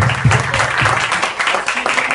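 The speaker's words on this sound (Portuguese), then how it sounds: "uma salva de palmas pro Hell's Kitchen Brasil agora" Brief, loud burst of applause for Hell's Kitchen Brasil at a barbecue gathering, dense clapping from a nearby crowd.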